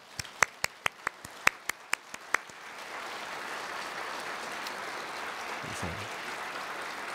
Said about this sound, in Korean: 우리 하나님께 박수 한번 드리겠습니다